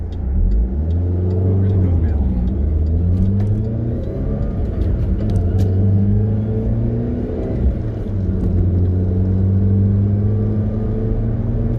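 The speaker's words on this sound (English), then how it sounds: "As you can see, fairly busy highway. Still got another vehicle coming." Steady car engine drone and road rumble from inside a 2007 Pontiac Solstice GXP on a fairly busy highway, with another vehicle approaching and passing nearby. The sound is continuous and loud, with someone talking over it.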